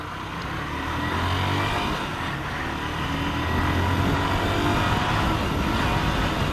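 A learner driver's car engine drones steadily and builds as it accelerates through a gear change in town traffic, heard continuously from inside the car with no talk.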